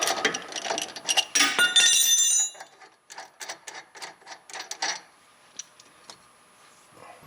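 An 18mm socket and wrench working a sway bar link bolt loose on a Jeep JL Wrangler: a quick run of dense metallic ratchet clicks, then slower, spaced ticks that thin out, close by and alone.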